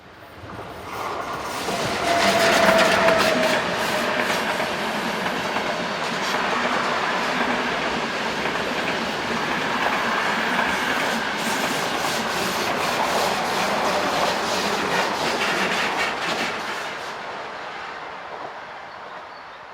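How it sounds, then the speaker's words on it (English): Eastbound Austrian passenger train IC 961 from Bregenz to Vienna, hauling car carriers at the rear, passes close by with a loud, sustained rumble and rolling wheel clatter that swells quickly, holds steady, then cuts away near the end. "Heading east is train IC 961, the 1404 from Bregenz to Vienne. The train conveys car carriers on the rear."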